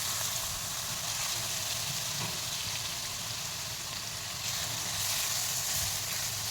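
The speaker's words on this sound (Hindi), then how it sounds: "ये तेल गरम हो रहा है, इसमें मैं ये लहसुन डाल रही हूँ।" Garlic hitting hot oil in a home kitchen while making Schezwan chutney, a steady, loud, broadband sizzle that holds throughout with no talking.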